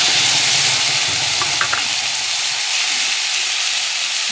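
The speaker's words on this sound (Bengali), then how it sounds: "অতিরিক্ত তেল গরম হয়ে গেছে, তাই ছিটকাচ্ছে চারিদিকে" Ground spice paste hitting very hot oil with cloves and cardamom, a loud, dense, hissing spatter that stays continuous, with a couple of light metallic clicks, close up.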